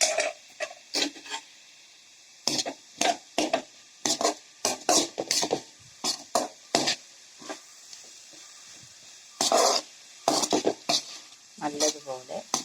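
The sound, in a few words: stirring vegetable stir-fry in a pan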